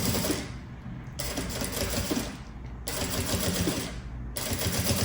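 A domestic sewing machine stitches the handle of a handmade luxury backpack in three loud, steady bursts of rapid mechanical clatter, separated by brief pauses with the presser foot sounding close.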